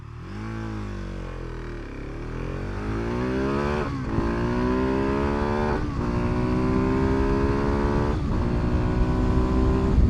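A motorcycle launches hard down a drag strip, its engine roaring loudly and climbing in pitch through several rapid gear shifts, each upshift briefly dropping the revs before the next rising howl, sustained and close throughout.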